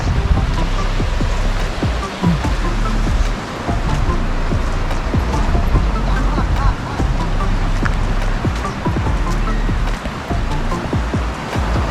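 Surf washing against the rock formation at Bolinao at low tide, a steady loud rush of breaking waves and churning water with gusts of wind, continuous and close.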